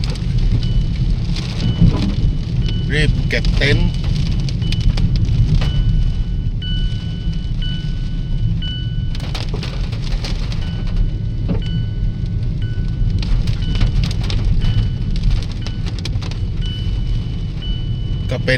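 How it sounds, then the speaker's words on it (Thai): Wind and rain lash a tent campsite on the beach at Laem Khok Kwang in Chumphon, a steady, dense roar of downpour and gusts throughout, with someone talking over it. "ทั้งลมทั้งฝน"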